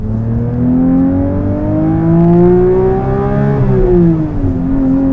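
A Porsche GT3 engine drives through wet mud, loud and close, its steady rising drone climbing in pitch before dipping as the revs ease, with no talk over it.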